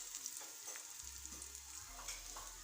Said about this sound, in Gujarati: કાંદા સરસ ચડી ગયા છે, ફ્રાય થઈ ગયા છે।